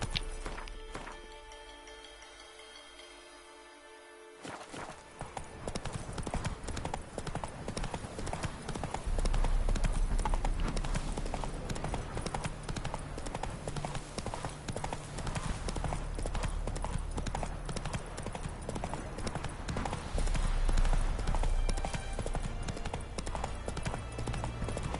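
Horse hooves galloping in The Witcher 3 on PS5, a fast, continuous drumming clatter close up that starts after a few quiet seconds and keeps pounding loudly to the end, with occasional voices over it.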